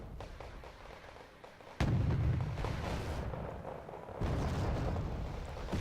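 Cannon fire from a T-72 tank in the Wargame Red Dragon video game, two loud booming shots about two seconds apart, each followed by a sustained rumble.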